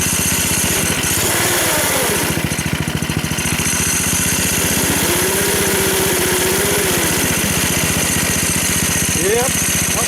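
Small go-kart engine running steadily while the cart tries to back up in reverse, a continuous close buzzing drone with faint speech mixed in.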